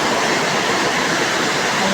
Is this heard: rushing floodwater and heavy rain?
yes